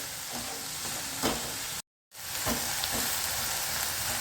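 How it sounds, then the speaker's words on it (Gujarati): Leaves being stirred through hot oil in a pan while cooking green brinjal bharta, a steady close sizzle with scraping stirs, cut by a brief silent gap before the frying resumes. "આ પેલા પાન નાખી દેવાના અને હવે એને હલાવી લેશું"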